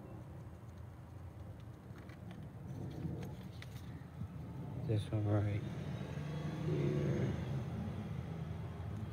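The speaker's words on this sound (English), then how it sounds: "Sorry, if y'all can probably hear the cars passing very loud. I live right off the street." Cars pass on a nearby street as a low, steady traffic rumble, swelling a little midway, heard under someone talking close by indoors.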